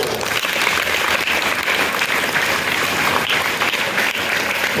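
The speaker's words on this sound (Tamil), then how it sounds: "மிகப்பெரிய பாராட்டு சொல்லுவோம். கைதட்டி" Steady, dense applause from a sizable audience cheering a student who studied in Tamil medium at a government school, sustained and even for several seconds with no pause.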